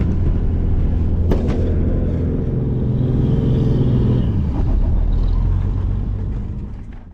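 A truck pulling a loaded cattle trailer up a hill, giving a loud, steady low engine rumble with heavy strain that fades slightly at the end.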